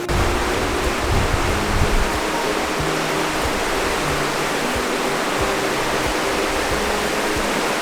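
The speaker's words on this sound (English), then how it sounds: "And here's the creek under the bridge" Creek water rushes steadily under a bridge in Cataloochee Valley after hurricane damage, a continuous close, broadband flow with no talk.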